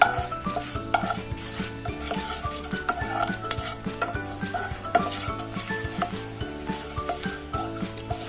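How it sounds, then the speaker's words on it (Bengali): Bengali five-spice seeds fry lightly in a pan for a sweet tomato chutney, giving a soft steady sizzle under repeated stirring scrapes and clinks of a spoon against the pan, close and fairly quiet. "এখন আমরা 5 ফোড়নটা দিয়ে দিব। একটু হালকা হালকা ভেজে নেব।"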